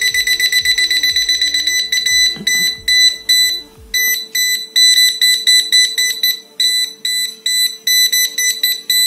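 Rapid, loud high-pitched beeping from a Taffware non-contact voltage tester detecting a live TV or monitor cable about 10 cm away repeats in quick pulses nearby, with a steady tone and brief handling noises early on.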